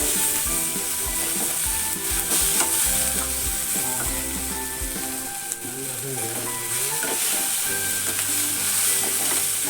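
Grated coconut dry-roasting in a pan while being stirred, with a steady close sizzling hiss, repeated scraping strokes and low rumbling tones underneath throughout.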